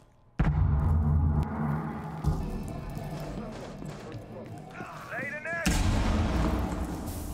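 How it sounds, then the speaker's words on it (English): Gunfire exchanged in a collegiate Rainbow Six Siege esports match, a loud burst of shots that opens the clip and fades into a rumbling tail before a second heavy volley near the end, with bits of voice over the action. "Gunfire is being exchanged."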